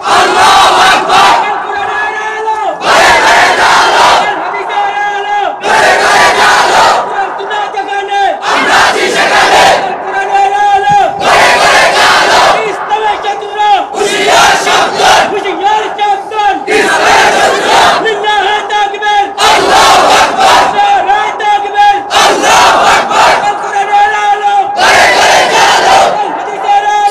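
A large crowd roars the takbir chant Allahu Akbar in loud, rhythmic waves, with bursts of massed shouting repeating roughly every two seconds, close and overwhelming, with brief gaps between each call.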